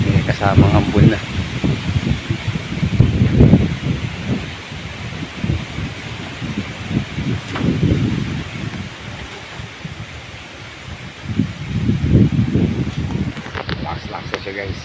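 Strong typhoon wind roaring through leaves with light drizzle, gusts rising and fading in waves, close and continuous, with someone speaking over it.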